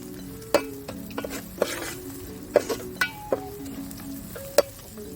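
Turmeric frying in oil in a pan for a boiled egg dish, a soft steady sizzle under repeated clinks and scrapes of a spoon stirring against the metal at a quick, uneven rhythm.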